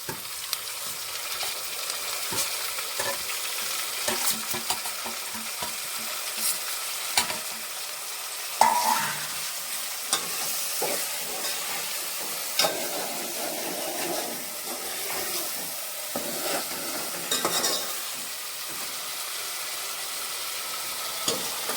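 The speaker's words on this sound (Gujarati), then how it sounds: "હાલો તો હવે ડુંગળી નાખી દઈએ." Onions sizzle and fry in a pan as a spoon stirs them, a steady hiss broken by scraping and clinking strokes, recorded close at a modest level with no one talking.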